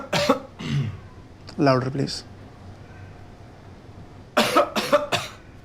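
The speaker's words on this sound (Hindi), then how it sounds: "खांसी करो" A man coughs on request during a doctor's check-up, giving a few short, close coughing bursts near the start and again near the end, with a brief spoken request in between.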